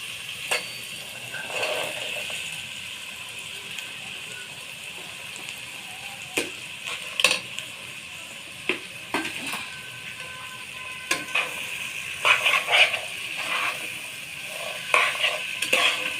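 Chickpeas and boiled potatoes being stirred and fried in spice masala, a steady low sizzle broken by repeated scraping and clinking strokes of a spoon against the pan, with no talk.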